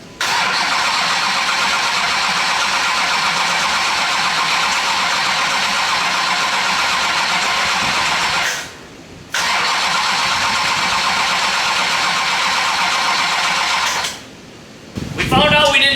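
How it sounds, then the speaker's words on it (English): A 6.6 Duramax diesel engine swapped into a Jeep Wrangler cranks on the key without catching. Loud, steady, close-up churning runs for most of the clip and breaks off in two short pauses. "we're gonna go ahead and crank it with the key right here and see if it takes off"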